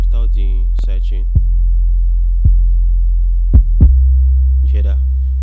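A deep, steady 808 sub-bass drone hums throughout an RnB beat without sidechain compression, punctuated by a few sparse kick-like thumps, with brief voice fragments at the start and end.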